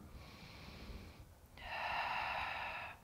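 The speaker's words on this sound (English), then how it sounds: "Listen to the sound of your breath." Deep breathing during a yoga session: a long, soft breath followed after a short pause by a louder, fuller breath, close and alone with no talking.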